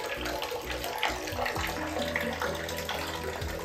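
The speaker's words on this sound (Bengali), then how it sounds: "এখন বুবলার স্নান দান" Water runs steadily into a bath as a tub fills for a small child's bath time, with a continuous broadband rush that holds at an even level for the whole stretch and no talking over it.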